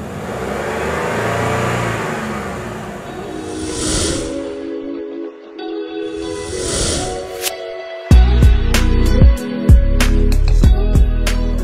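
A car engine idles, then revs up sharply several times in loud bursts, close by, with no talking.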